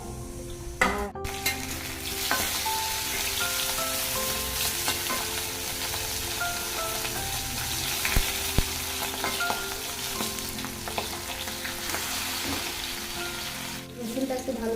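Pointed gourd fries steadily in a pan, a dense continuous sizzle with occasional crackles and stirring clinks carrying on throughout without talk.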